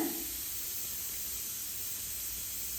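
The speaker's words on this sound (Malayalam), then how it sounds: "കുക്കർ വിസിലടിക്കാനായിട്ട് തുടങ്ങിയിട്ടുണ്ട്" A steady, even hiss of steam escaping from a pressure cooker fills the whole clip at a constant level, with no voices.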